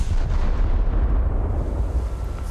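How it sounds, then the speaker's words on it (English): Heavy naval gunfire from a Fargo cruiser striking the Scharnhorst battleship in a naval battle video game, a dense, continuous low rumble of booming shells and explosions filling the moment without any voices. "That's a Fargo that's shooting us."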